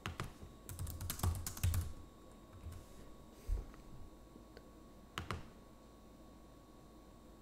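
Rapid clatter of typing on a computer keyboard in bursts, then a pause and a few isolated key taps, close and fairly crisp.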